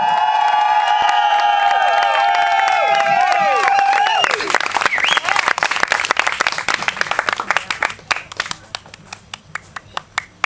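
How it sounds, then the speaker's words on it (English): An outdoor crowd at a hoop dance show at Lido di Venezia claps and cheers after the closing music fades, with loud applause and shouts at first, thinning into scattered claps. "Big applause for Paula Berton."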